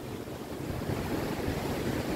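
Steady wash of waves and wind at Melasti Beach in Bali on a cloudy morning, a continuous low roar with gusty microphone rumble and no voices.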